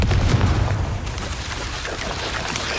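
A Confringo blasting spell in Hogwarts Legacy bursts with a heavy boom, then a rumbling, crackling tail fades over the next couple of seconds, loud and near with no talk.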